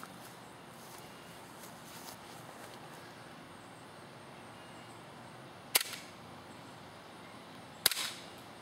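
Propane-powered airsoft gas pistol fires two sharp, distant-sounding cracks a couple of seconds apart over a quiet, steady background hiss.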